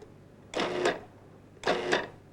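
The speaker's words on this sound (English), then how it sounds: "Use the pulse control to chop." A 1998 Cuisinart DLC-10 food processor pulse-chops in two short, loud motor bursts about a second apart, each a whirring surge that stops abruptly, with a quiet pause between.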